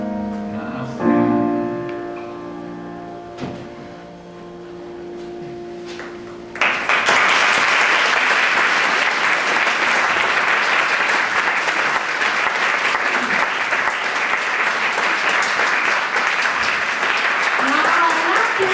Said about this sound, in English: One more applause for you.